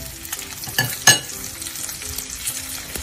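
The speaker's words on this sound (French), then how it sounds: "Et on va bien le colorer. On va mettre une large noisette de beurre." Charolais lamb sears in butter in a hot pan, giving a dense, close frying sizzle with a couple of sharper spits and clinks and no voices.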